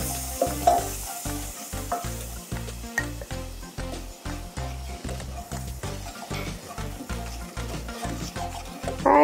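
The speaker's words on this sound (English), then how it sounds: "So I'm going to start with a little bit of flour adding to that butter." Steady, busy sizzling of flour cooking in butter for a roux, with a rhythmic scraping stir running through it and no voices over it.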